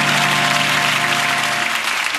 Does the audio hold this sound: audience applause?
yes